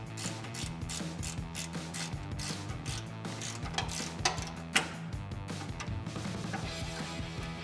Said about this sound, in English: We're using a 12mm wrench just because this line's a little bit in the way.